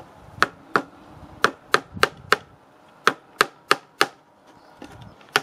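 A hammer drives a nail into wood while a cat tree is being built. About a dozen sharp, close strikes come in uneven bursts with short pauses between them, and no one speaks.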